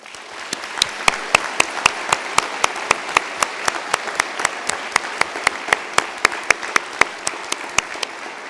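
Warm applause from a university graduation conferring audience, a steady run of sharp, evenly spaced claps standing out over a dense wash of clapping that carries on loud and unbroken throughout.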